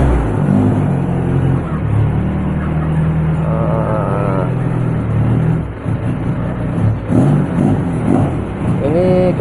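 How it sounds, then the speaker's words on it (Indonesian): A 2.5-litre petrol engine in an Opel Blazer, non-turbo, revving repeatedly while the vehicle stands still. The engine roars loudly and continuously and its pitch rises and falls, with someone talking over it. "Ini gas-gasannya masih enak sekali. Mobil itu sampai goncang kayak gini, digas."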